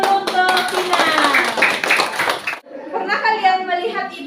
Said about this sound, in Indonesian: Tepuk tangan dulu untuk Vina.